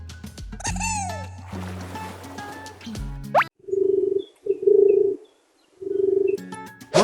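A pigeon coos three times, each a soft, low, rounded call with short pauses between, after a brief whooshing chime.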